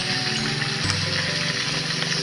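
Cassava leaves frying in a pan outdoors during Sundanese forest cooking, giving a steady, dense sizzle and crackle that is close and continuous, with no talking.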